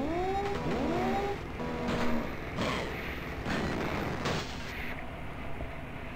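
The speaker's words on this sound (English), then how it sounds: "My cart exploded on me." Gameplay from the DOS kart racing game Wacky Wheels: a kart blows up among engine whine, synthesized tones and sharp bursts, all moderately loud and with no talking.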